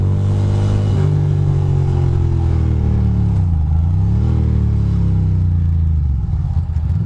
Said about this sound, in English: I was gonna do a little burnout maybe.